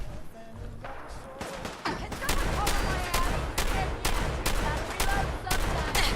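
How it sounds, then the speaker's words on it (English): Rapid gunfire in the video game Fallout, a dense, loud barrage of repeated shots that grows heavier partway through and continues steadily to the end. "I have to shoot him so many times"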